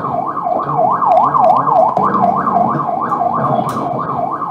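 An ambulance siren wailing in a steady rising-and-falling cycle, loud and close, over traffic rumble on a road where a taxi collided with it.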